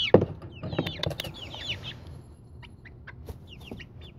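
Backyard chickens clucking and squawking in agitation, several birds close by with a loud burst at the start, then quicker, lighter clucks and chirps continuing at a moderate level, with no talk.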